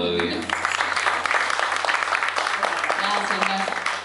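Steady applause from a concert audience at a live metal show carries on throughout, with a sustained musical tone and some background voices beneath the clapping.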